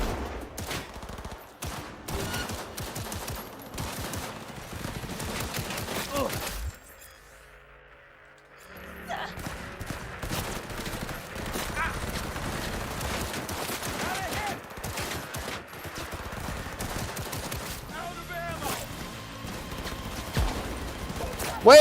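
Gunfire rattles in Cyberpunk 2077: Phantom Liberty as a pistol fires in a dense, continuous barrage of loud shots, broken by one brief quiet gap before the shooting resumes and carries on to the end.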